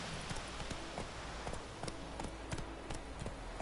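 A horse gallops in The Witcher video game, its hooves hitting in a fast, even rhythm over a dense, loud background of game sound, with no talk.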